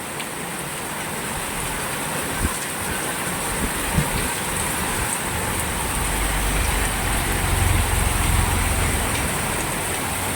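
Heavy monsoon rain pours down in a dense, continuous hiss over farmland at Chikhli near Pune, with a low rumble building toward the end.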